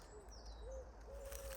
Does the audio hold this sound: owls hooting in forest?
yes